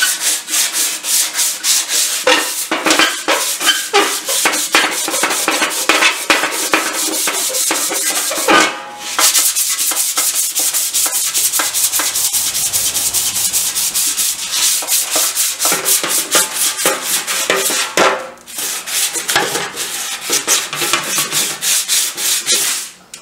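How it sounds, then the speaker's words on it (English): Steady abrasive rubbing of sanding on a Triumph 500 Otter motorcycle part, loud and close, continuing with brief pauses around nine and eighteen seconds. "Let me finish sanding it."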